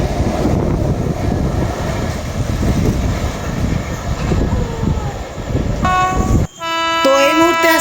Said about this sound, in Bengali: এই মুহূর্তে আসছে আমাদের পরবর্তী স্পেশাল ট্রেন গাজল থেকে কলকাতা অবধি যাওয়া টিওডি স্পেশাল এক্সপ্রেস ট্রেন, আর এখন স্কিপ করবে সেটা বীরনগর রেল স্টেশন।